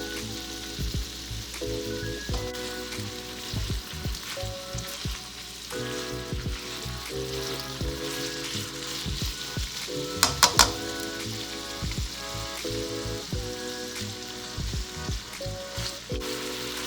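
Beef strips browning in hot oil in a pot for pepper steak, a steady close sizzle and crackle running throughout with occasional stirring scrapes and a brief sharper clatter near the middle.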